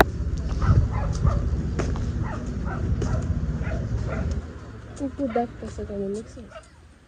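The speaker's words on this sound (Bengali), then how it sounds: "আশেপাশে দেখলাম অনেক কুকুর ডাকাডাকি করছিল।" Dogs bark and yip near a lake park, several short sharp calls over a voice talking, followed by quieter whining sounds near the end.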